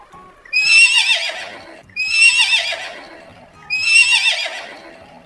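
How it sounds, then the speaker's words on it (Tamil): A horse neighs three times in succession, each whinny loud and close, rising sharply then trailing off, with brief pauses between calls and no talk. "குதிரை."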